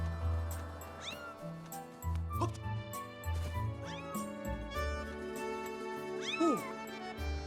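A cat meows repeatedly in The Legend of Zelda: Skyward Sword, with several distinct rising-and-falling mews over low game music and ambience.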